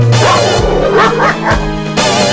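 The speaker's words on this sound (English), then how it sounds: "A dog barked at them and they ran too." A dog barking in a cartoon song, several loud close yips and bow-wows set against music.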